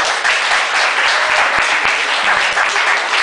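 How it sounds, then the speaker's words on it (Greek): Dense, steady applause from a stand-up comedy audience in Greece, a continuous wash of many hands clapping at close range for a few seconds with no voices over it. "δώστε του ένα χειροκρότημα"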